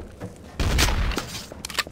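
A short, loud burst of rapid gunfire from the video game Trouble in Terrorist Town erupts after a brief quiet moment, followed by a few scattered smaller shots.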